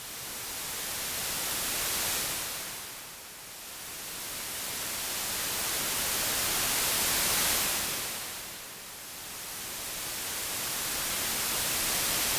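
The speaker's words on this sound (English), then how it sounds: "for long synthesizer sounds, a long reverb is really great" Two long washes of synthesizer noise rise and fall, each swelling and dipping gently, smeared and spacious under long reverb.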